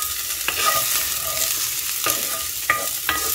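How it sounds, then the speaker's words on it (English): Onions fry in oil in a cast iron pan with a steady close sizzle, broken by a few sharp scrapes and knocks as they are stirred. "I'm going to use this and just add my onions here. And I'm going to fry it"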